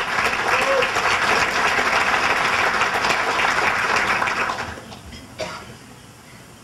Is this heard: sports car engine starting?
no